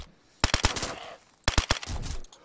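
Gunfire in the game DayZ comes in two close bursts of three or four sharp, loud shots each, separated by about a second, with no voices.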